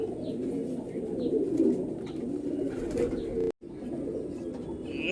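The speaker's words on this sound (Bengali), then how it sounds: "একটা মাদি পায়রা খুব সুন্দর পায়রা" Golden-eyed pigeons coo softly in a loft, their low, murmuring calls overlapping near the listener, with faint chirps and a short cut partway through.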